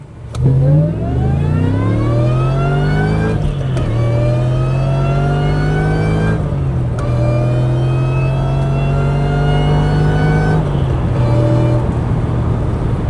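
A supercharged 2003 Ford Mustang Cobra convertible with a 4.6 V8 accelerates hard from inside the cabin. The engine note climbs steadily through each gear, with brief drops at three upshifts, loud and continuous, with no talking.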